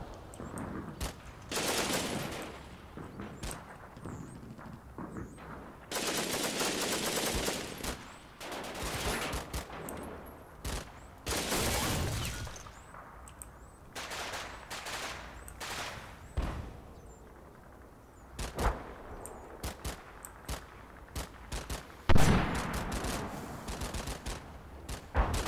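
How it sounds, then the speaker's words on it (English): MP44 assault rifle fire in the World War II video game Combat Mission, heard as repeated rattling automatic bursts and scattered single shots, some near and loud, others more distant, with no talking. "That's a MP44, actually. Pretty sure from that sound."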